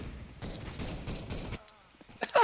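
Rapid automatic gunfire in the CS:GO Arms Race mode, firing in bursts for about a second and a half before cutting off. A couple of softer clicks and shots follow.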